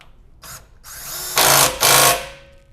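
A power tool drives the lower shock bolt back in on a 2022 Toyota Tundra during a lift kit install, giving a brief blip and then two loud, close whirring bursts with no talk.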